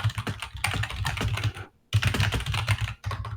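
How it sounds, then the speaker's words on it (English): Fingers rattle quickly across a computer keyboard in close, steady bursts of clicks, pausing briefly twice before the typing resumes. "Who is typing?"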